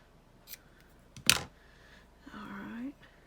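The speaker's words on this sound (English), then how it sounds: "cut with my ribbon scissors." Ribbon scissors snip once through satin ribbon pulled from a spool, a single crisp, close cut, followed by a faint rustle of ribbon being handled.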